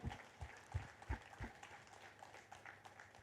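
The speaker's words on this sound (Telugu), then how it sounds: "పిఎంసీకి ఒకసారి గట్టిగా క్లాప్స్ చేసుకుందాం" Quiet, scattered hand clapping at a meditation gathering, with a few heavier claps early on, thinning into soft, uneven patter.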